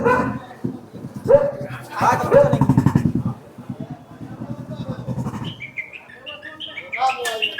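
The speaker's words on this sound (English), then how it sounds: "That was a rag picker whom this dog was barking." A street dog barks repeatedly at a rag picker at night outside the Kaal Bhairav Mandir in Varanasi, India, with people talking close by and birds chirping toward the end.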